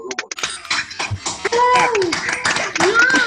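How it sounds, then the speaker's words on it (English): Participants on a Zoom call applaud in a launch celebration: scattered, uneven claps at first, then mixed with excited cheering voices that overlap the clapping. "give everybody a round of applause for actually being a part of this wonderful evening"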